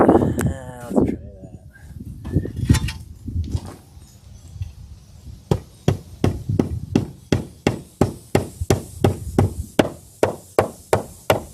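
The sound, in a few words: hammering while building a chicken shed concrete pad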